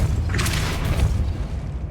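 A Depulso spell blast in the Hogwarts Legacy video game sounds as a loud, deep booming burst with a brief crackling flare that fades over about a second.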